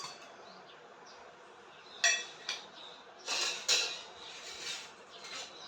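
Dry cooking pot and metal strainer handled in a home kitchen while making kokum syrup, giving a few brief metallic clinks and clatters over quiet background.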